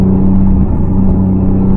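A new Porsche GT3 engine drones loudly from inside the cabin, a steady low rumble held in gear with a slight rise, no voices.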